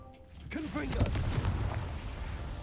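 A Confringo fire spell from Hogwarts Legacy bursts with a sharp crackling blast after a brief spoken word, then a rumbling, creaking tail rings on under a muffled voice.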